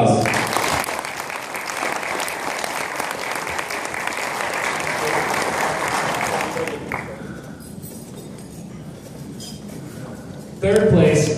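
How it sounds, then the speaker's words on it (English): Crowd at an awards ceremony gives loud, sustained applause for about seven seconds, which then fades to a quieter murmur before a voice speaks loudly into a microphone. "big round of applause"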